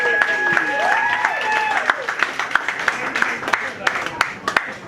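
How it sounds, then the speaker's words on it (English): Guests at a wedding reception clap in a modest round of applause that builds into scattered, distinct claps, under a person talking. "I think that deserves a round of applause."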